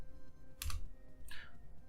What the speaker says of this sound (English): on the right panel under default value we will type in 10